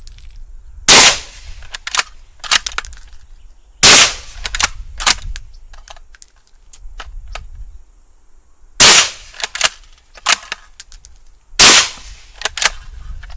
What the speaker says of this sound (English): Alright, say it's a little bit louder than like a dedicated 30 cal can.